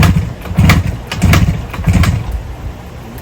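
A 1973 Yamaha RD 350 motorcycle engine, US-spec, starting and running; its low, loud, throbbing exhaust pulses rise and fall close by, with no voices.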